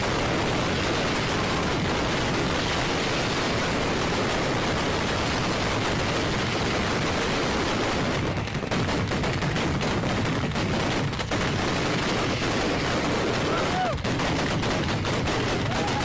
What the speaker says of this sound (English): Second of all you hearing is gunshots and sparks.